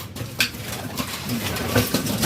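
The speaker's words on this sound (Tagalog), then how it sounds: "Yung dalawang ibon ngayon palang papasok." Pigeons entering the loft, fluttering and cooing nearby, with soft wing flaps and a few low coos and rustles over a couple of seconds.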